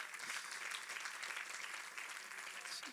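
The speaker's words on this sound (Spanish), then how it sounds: "Denle un aplauso fuerte a nuestro Dios." Steady applause fills a church service, a dense continuous clapping from a congregation that holds evenly for the whole stretch.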